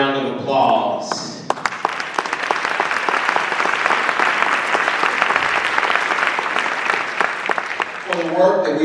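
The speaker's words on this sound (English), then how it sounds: "Let us give another round of applause." An audience at a community justice action event applauds, a loud sustained wash of clapping lasting several seconds between stretches of speech at the start and end.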